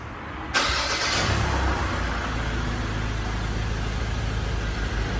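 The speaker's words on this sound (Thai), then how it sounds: "สตาร์ทรถครับ" A Ford Ranger pickup's engine cranks and catches after a brief quiet moment, then settles into a steady, close idle rumble with no talking.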